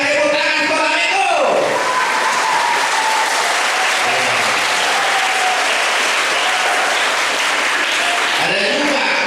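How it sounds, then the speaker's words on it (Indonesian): Sunday school children at an HKBP church gathering clap together in a steady rhythm, a loud dense patter of many hands with voices and cheering mixed in throughout. "HKBP sekolah minggunya, tepuk tangan sekolah minggu."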